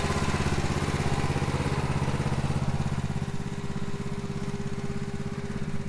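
A farm bale wrapper machine runs on a field making baleage, its engine producing a loud, continuous droning hum with a steady throbbing pulse and no pauses.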